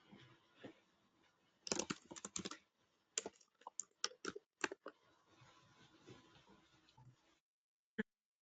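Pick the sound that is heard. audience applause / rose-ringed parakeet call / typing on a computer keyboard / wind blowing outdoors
typing on a computer keyboard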